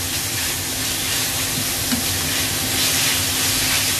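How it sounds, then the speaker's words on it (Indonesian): Minced meat frying in a pan for Hong Kong-style mapo tofu, a steady loud sizzle and hiss with faint scraping of stirring, no speech. "dagingnya digoreng terus sampai kecoklatan"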